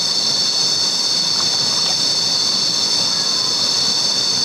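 A waterfall on Koh Kood, Thailand, reached by kayak, roars in a loud, unbroken hiss that fills the whole stretch without pause, steady and close with no voices over it.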